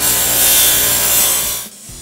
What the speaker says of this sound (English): I'm just going to use the wire wheel on the grinder to do that